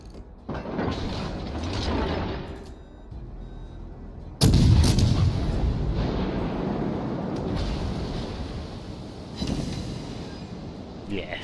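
In the World of Warships game, a warship fires a naval artillery salvo: one heavy boom lands midway through, surrounded by mechanical creaks and rumbling battle noise.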